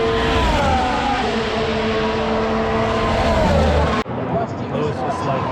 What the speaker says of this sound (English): Smoke coming out of Max's car.